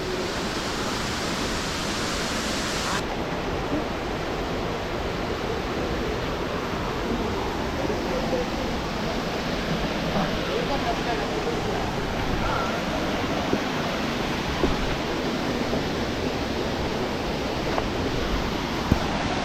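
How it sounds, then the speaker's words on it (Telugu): Veyilingala Kona waterfall near Srikalahasti roars as a steady, loud broadband rush of falling water, continuous and close throughout, with no talk over it. "ఇదే వేలింగాల్ కోన వాటర్ ఫాల్స్."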